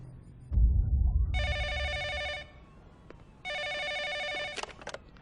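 A film-scene telephone rings in two long electronic bursts with a pause between them, preceded by a low rumble and followed by clicks as the handset is handled.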